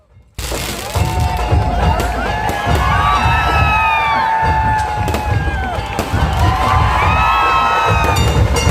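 A large crowd cheers and shouts loudly and continuously at the unveiling of a 25-foot fibre-reinforced polymer statue of Chhatrapati Sambhaji Maharaj in Ratnagiri, with whistles and rising whoops carrying over the din.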